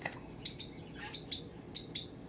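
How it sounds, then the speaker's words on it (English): Pet parrots sound off in a room, giving three paired bursts of shrill, high chirps at a regular pace, close and loud, with no talk between them. "Sorry about the parrots"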